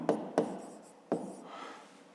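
Pen or pencil writing numbers by hand on paper, a few quick strokes with short scratchy bursts and light rubbing, close and quiet, no voices.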